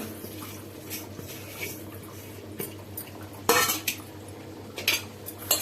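Chopped onion, coriander, salt, chilli, turmeric, cumin, ajwain and asafoetida are mixed into taro leaves, making quiet scraping and clinking sounds, with a few louder bursts of handling toward the middle and end.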